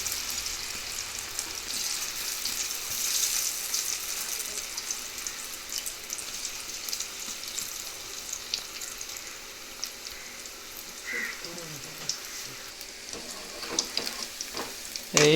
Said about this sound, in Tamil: காலிஃப்ளவர் பக்கோடா செய்கிறோம் நாங்கள்